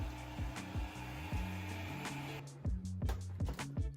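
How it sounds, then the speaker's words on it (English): A hotel bathroom hairdryer runs as a steady close whir with a pulsing low hum, cutting back partway through and then sputtering in uneven bursts. "there was also this hairdryer too, which I've never seen a hairdryer like this."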